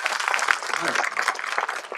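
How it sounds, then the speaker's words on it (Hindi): Audience at a Hindi poetry recital breaking into loud, dense applause, a close, continuous roar of many hands clapping throughout. "एक बार मुझे तालियों से आदेशित करें"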